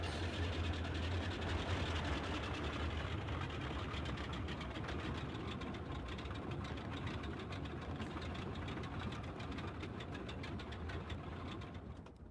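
Twin engines of a Boeing 247D in Microsoft Flight Simulator drone in a loud, steady idle with a rough, knocking texture, easing off only slightly at the very end.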